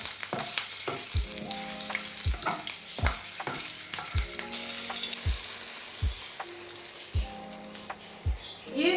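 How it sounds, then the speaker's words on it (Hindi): Tadka of hot oil with green chillies sizzling as it is stirred into mash daal in a pan: steady crackling fry with repeated spoon knocks and scrapes against the pot, close and alone. "ये तड़का हमने डाल दिया है माश की दाल का और अब इसको अच्छे से मिक्स करना है"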